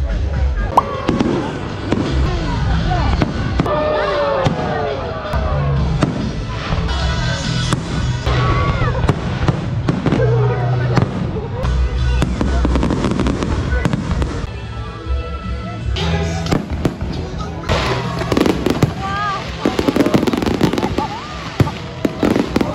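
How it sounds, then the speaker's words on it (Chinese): Fireworks burst over a Six Flags amusement park on Independence Day, with a dense run of booming blasts and crackling pops that goes on nonstop, while people talk and a crowd murmurs underneath. "因为独立日，美国最爱放烟火。"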